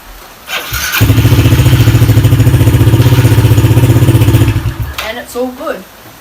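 A motorbike engine cranks and catches after a battery repair, settling into a loud, steady, close-up running note for several seconds before cutting off, followed by brief voices.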